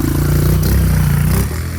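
A motorcycle climbs the volcano trail on Mount Batur in Bali, its engine droning loud and steady at close range, with clattering rattles over the rough ground throughout.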